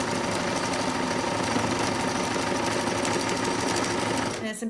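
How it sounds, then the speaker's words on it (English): A sewing machine stitches around a fabric face mask with a nose bridge and filter, running in a fast, steady mechanical chatter that stops abruptly near the end, with a person talking over it. "Now we're gonna sew this twice around."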